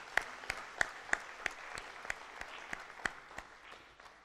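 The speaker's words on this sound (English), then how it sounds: "for a very big round of applause for her." A small audience at a summit plenary session claps in a sparse, distinct rhythm, individual claps standing out clearly for a few seconds before fading, quiet and somewhat distant.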